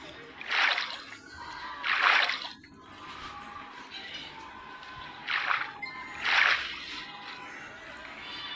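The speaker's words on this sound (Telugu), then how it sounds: "ఇంకా నీళ్ళు కిందకు వస్తున్నాయి." Water splashes and pours in several bursts in a video game, with a dripping, sloshing quality over a low background hum.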